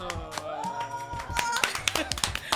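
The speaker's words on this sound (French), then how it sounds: "Applaudissez." Quick, bright hand claps in a radio studio during a live morning show, several short crisp bursts of a small group clapping, close to the microphone, over background music and voices.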